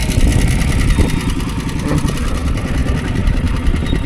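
A boat engine drones steadily and loudly on a river trip in rural Laos, a continuous close rumble with no pauses.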